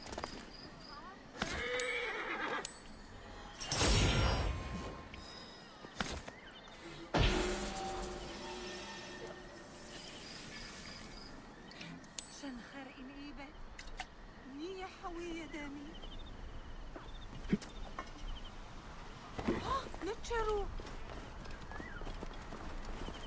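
A video game horse neighs and whinnies several times while hooves clip-clop steadily, with game-like effects and a voice talking over parts of it.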